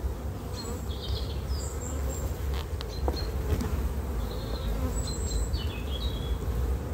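Honey bees buzz steadily in a small nucleus hive holding three brood frames, opened for inspection; a dense, close, continuous drone with occasional individual bees whining past.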